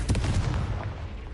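Confringo blasting spell from a Harry Potter video game, a single deep, booming explosion that hits hard and then rumbles away over about a second.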